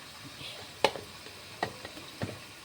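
A pan with oil and frying food gives a soft continuous sizzle, broken by three sharp utensil clicks and scrapes against the pan at irregular intervals.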